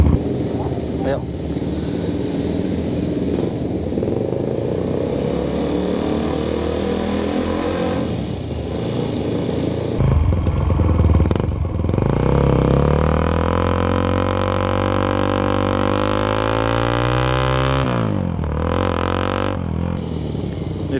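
Suzuki Satria FU motorcycle fitted with a Bobok aftermarket exhaust, rumbling steadily while riding slowly, then revving up with a rising, harmonic engine note that climbs and falls near the end; loud and close throughout.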